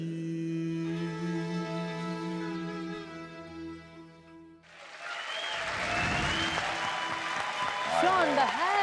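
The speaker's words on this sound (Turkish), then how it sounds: "Şu anda herkes alkışlıyor." Studio audience applause at a Turkish television music show fills the second half, a broad steady clatter of many clapping hands that rises after a stretch of music with a sustained held note.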